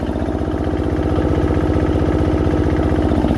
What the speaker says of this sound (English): So this is your DJA. Your single cylinder diesel